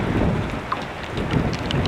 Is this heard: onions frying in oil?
no